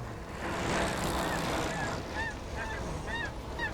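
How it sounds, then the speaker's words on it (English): A flock of geese honks repeatedly at a distance over a steady background rumble, the calls overlapping in short bursts. "Let's have those geese again, Sam."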